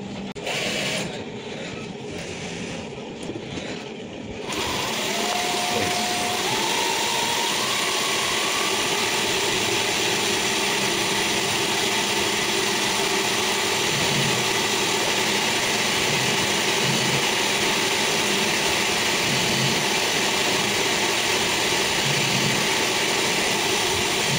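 A sewing machine stitches a hand-knitted Muslim men's prayer cap (kufi) in Bangladesh. It starts up after a few seconds, then runs with a steady, continuous mechanical whir.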